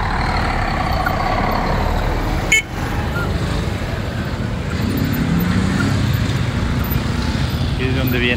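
Cars and trucks roll down the Panamericana road coming from Ipiales, a steady loud traffic roar with a brief horn toot and a sharp air-brake hiss partway through.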